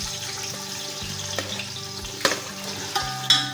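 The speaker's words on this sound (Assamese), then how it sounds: "এয়া মই পিঁয়াজ ঢালিছোঁ।" Onions sizzling and frying in refined oil with a bay leaf, a steady close crackle and hiss with a few sharper clinks of a utensil against the pan.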